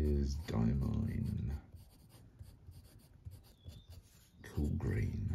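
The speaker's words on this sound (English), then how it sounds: "And I love writing with this pen." A TWSBI Eco Jade fountain pen with a stub nib and Diamine ink scratches softly across paper in close, faint strokes, framed by louder stretches at the start and end that may be speech.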